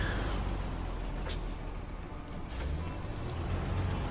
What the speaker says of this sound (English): let's get this truck out of the way